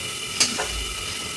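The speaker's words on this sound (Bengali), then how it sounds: "লাউডুগিটা একটু নাড়াচাড়া করে দিচ্ছি" Bottle gourd stems fry in a pan with a steady, soft sizzle. Two quick scrapes of stirring come close together near the start, then the even frying hiss continues alone.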